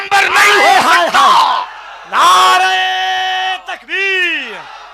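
A crowd at an Islamic religious speech gathering roars back in answer to a Nara-e-Takbir call: loud, drawn-out collective shouts in several close bursts, many voices chanting together in unison.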